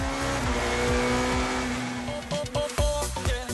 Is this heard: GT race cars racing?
yes